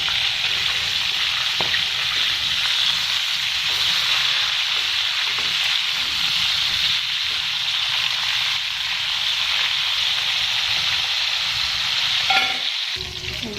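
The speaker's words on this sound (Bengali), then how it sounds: "এখানে তেল বসিয়েছি, তেলটা গরম হয়ে গেছে, এখন দিয়ে দেবো মাছ। মাছটাকে আমি সুন্দর করে ভেজে নেব।" Fish fries in hot oil in a wok, a steady, dense sizzle running close and loud throughout with occasional stirring clatter near the end, no voices.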